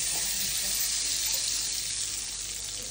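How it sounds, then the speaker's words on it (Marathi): Ghee hits a hot kadhai for carrot halwa and sizzles as a dense, steady hiss that stays loud and even throughout, close up with no talk. "कढई गरम झाली की तूप टाकून घेऊ."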